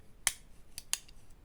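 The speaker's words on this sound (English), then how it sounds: "You essentially have a full pair of scissors" Scissors on a Nextool Flagship Pro multi-tool snip a few times in crisp, clicky cuts, three or four brief sharp snaps spaced apart over quiet room noise.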